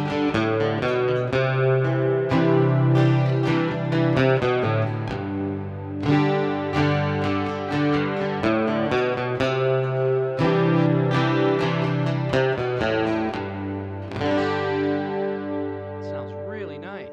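Acoustic-electric guitar played through a Boss ME-80 multi-effects unit with chorus and detune engaged gives a wide, shimmering full tone, with strummed chords and picked notes ringing continuously and alone at a close, steady level.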